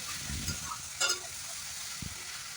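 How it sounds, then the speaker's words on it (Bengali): A spice paste fries in oil for a Bengali dal bora curry of lentil fritters, cooking down until its moisture dries off. A soft, continuous sizzle with a few faint stirring scrapes, quiet and close. "এবার আমি ততক্ষণ ভালো করে কষিয়ে নেব যতক্ষণ না এর মধ্যে জলভাব পুরো শুকিয়ে আসছে"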